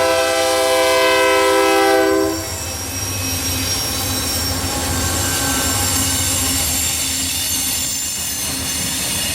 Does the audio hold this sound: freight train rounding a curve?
yes